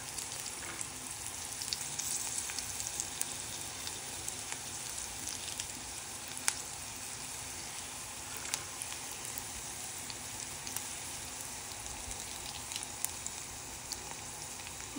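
Tin fish curry base fries in a pan while being stirred, giving a steady close sizzle with faint scraping clicks and no voices.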